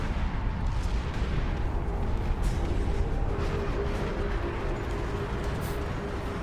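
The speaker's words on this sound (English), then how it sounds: "now it's just like auto fire and doesn't seem to be caring that I'm purposefully twisting it" Ship turret auto fire pounds an ork ship in a Space Marine game, a dense continuous barrage of booming blasts and rumbling explosions, loud and unbroken throughout.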